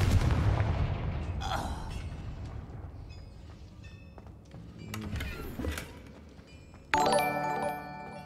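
Spell blasts from Confringo cast in the video game Hogwarts Legacy: booming explosive bursts and crackling magical effects mixed with game ambience, ending in a bright, ringing impact.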